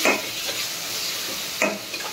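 Ginger garlic paste sautéing in a pan, with a broad steady sizzle and two sharp scraping stir strokes near the start and again later, close and moderately loud with no talking.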